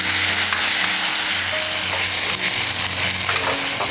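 Blended tomato and pre-roasted onions cooking in a kadhai for oil-free dum aloo, a loud, dense sizzle and bubbling with scraping stirs, steady throughout, with a low hum in the background.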